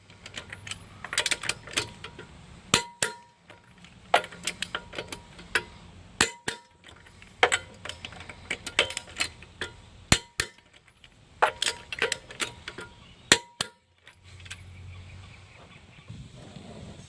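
A torque wrench tightens the wheel lug nuts on a Dodge Durango in a star pattern, giving sharp metallic clicks and clanks in irregular clusters with brief pauses between nuts.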